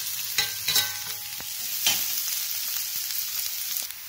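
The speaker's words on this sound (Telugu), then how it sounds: "వేసుకొని బాగా ఫ్రై చేసుకున్నాము." Green chilies, onion and garlic fry in hot oil for baby corn manchurian, giving a steady close sizzle broken by a few sharp scrapes and clinks of stirring.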